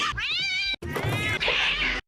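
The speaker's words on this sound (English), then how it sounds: "like a cat." Cat meowing loudly and close, three drawn-out yowls in a row with a short break between the first and second, alone without talk.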